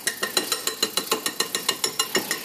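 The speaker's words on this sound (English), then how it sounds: "I'm just going to use this whisk until it starts getting tight" A whisk beating spaetzle dough in a bowl, a quick regular series of close clicking strokes at an even rhythm, with no voices.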